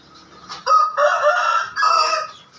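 Bangkok-breed chickens in a coop during the rainy season give loud, close, strained crowing calls in two long bursts, with short clucks around them.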